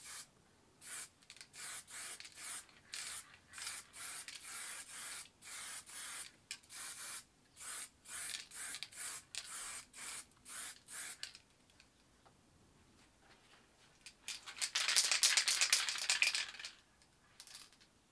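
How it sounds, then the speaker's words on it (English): Water-based white spray paint hisses onto a decorator's scraper in a long run of short, rhythmic bursts, followed after a pause by one louder, sustained spray close to the can. "spray the white here on the scraper, because the overspray will make the mist"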